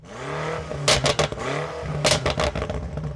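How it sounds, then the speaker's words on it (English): BMW M5 Competition (2023) with competition-spec exhaust revving hard while parked, engine rising and falling in sweeps broken by two clusters of sharp, loud exhaust pops and bangs, up close with no talking. "you can sit here in park and just rev it out and hear incredible pops and bangs from that competition spec exhaust"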